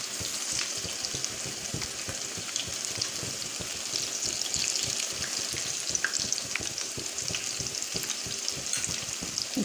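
Vegetable pakora batter dropped into hot oil, frying with a dense, steady sizzle and rapid crackling pops up close, running unbroken with no talk.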